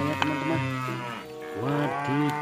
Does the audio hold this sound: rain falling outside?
no